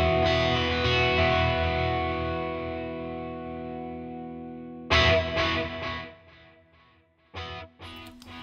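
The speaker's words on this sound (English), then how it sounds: "So it's just sort of a reverb and delay, but no clean signal." STL Tonality guitar plugin set to reverb and delay with no clean signal: a distorted chord rings out in a long swelling wash and fades, then sharp strummed hits follow with echoing, smeared tails.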